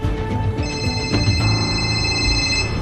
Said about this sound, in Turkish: Alt tarafı bir telefon çaldı